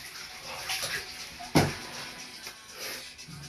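A person sitting in a tub of cold water makes soft sloshing and swishing, with one sharper splash partway through; no talking.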